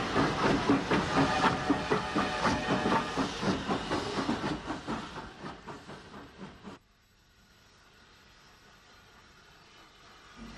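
An H-class steam tank engine propelling a push-pull set at Horsmonden station: rhythmic chuffing and hissing that slowly fade, then near quiet after the engine passes.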